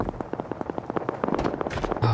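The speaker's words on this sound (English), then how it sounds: "Ah, the gunfire. It's so nice." Video game gunfire fires in a rapid, uneven string of sharp cracks, fairly quiet and heard alone for a couple of seconds.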